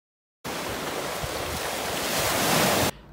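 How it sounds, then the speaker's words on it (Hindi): Sea waves wash steadily onto the shore at St Andrews, Scotland, a loud, continuous roar of surf mixed with wind noise, starting suddenly and swelling slightly before cutting off. "साहिल समंदर, पानी का शोर"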